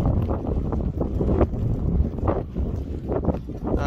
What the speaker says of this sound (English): It's proper windy today, so I hope the audio ain't fucked.